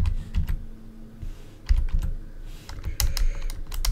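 Someone types on a computer keyboard at a terminal, with close, clicky keystrokes in quick bursts separated by short pauses and no voices.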